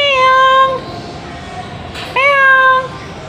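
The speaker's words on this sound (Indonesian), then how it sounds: "Kalau yang meong-meong itu kucing hitam" Two long, clear meows from a stray black cat nearby, separated by a short pause, over a steady background hum.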